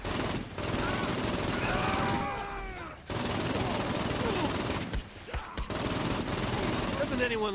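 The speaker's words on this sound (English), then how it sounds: "Assault rifle time." Assault rifle gunfire in the Saints Row IV video game, sustained rapid bursts that run loud and continuous with a couple of short breaks, mixed with game effects and other in-game sounds.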